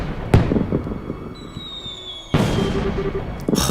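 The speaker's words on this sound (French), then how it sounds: "Oh, il y en a tellement en plus!" Several video game firework bursts (Trails in the Sky the 3rd) pop and crackle, with a sharp bang early on and a louder blast later, over faint whistling streaks and a steady low background.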